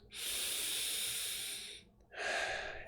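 A person takes a deep breath, a long airy inhale of nearly two seconds followed by a shorter breathy exhale, close and quiet with no words.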